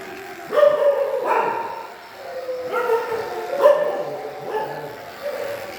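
Stray dogs at a volunteer grooming session in Thailand bark and yip in short bursts, a few sharp barks and whimpers close by, with no talk over them.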